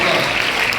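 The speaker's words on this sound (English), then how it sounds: "Let's give a big round of applause." An audience at a school anniversary celebration applauds the teachers, a dense, loud burst of clapping filling the whole short moment.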